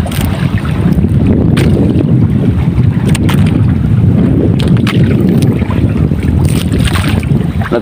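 Fishing boats out at sea on a squid-fishing trip, heard as a steady loud engine drone with wind buffeting the microphone and water rushing throughout, with no talk.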